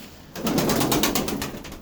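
A family's pigeons coo during feeding, a short close burst of soft throaty cooing with faint flutter, starting after a brief quiet moment.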